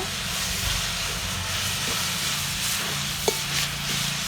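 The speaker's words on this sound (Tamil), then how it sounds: "புதினா கொஞ்சம், கொத்தமல்லி கொஞ்சம், கருவேப்பிலை கொஞ்சம் போட்டு நல்லா வணக்கிட்டேங்க" Mint, coriander and curry leaves sautéing in a pan for mutton kulambu give a steady close hiss and sizzle throughout, with one brief clink partway.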